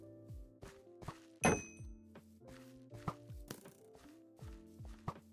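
In Minecraft, crossbow arrows from pillagers hit the player as a series of dull thunks and sharp whacks, spaced irregularly over quiet game ambience, with one louder impact standing out.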